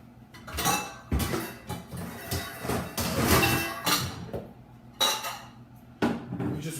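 Glass bowl being taken out and handled in a kitchen, a run of close, loud clinks and knocks against other dishes and the counter, irregular bursts with short pauses between.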